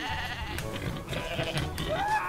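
A goat in Goat Simulator 3 lets out a couple of close, wavering bleats over light background game noise.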